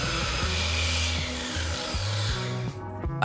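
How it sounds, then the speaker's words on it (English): Handheld orbital polisher working rubbing compound into a boat hull, a steady loud motor whir with shifting hum as the pad moves across the surface, dropping off near the end. "A handheld orbital polisher works rubbing compound into the hull in overlapping passes from top to bottom"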